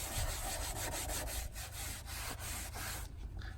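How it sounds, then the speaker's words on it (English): A cloth rubs steadily over a plastic trim surface in a car engine bay, buffing off trim restorer in a continuous near scratchy swish with soft repeated strokes and no talking. "Yeah, just buff it off."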